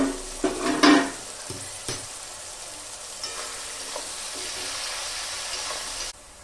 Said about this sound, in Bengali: কিছুক্ষণ পর আমি ঢাকাটা খুলে পেঁয়াজটা একবার নেড়ে দেবো